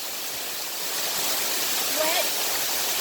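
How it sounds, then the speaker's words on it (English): Steady, broadband rushing roar of a waterfall on a steep hillside during a camping trip, continuous and fairly loud throughout with no break. "so check out this waterfall"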